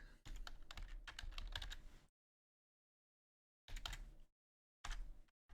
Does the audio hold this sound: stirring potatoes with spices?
no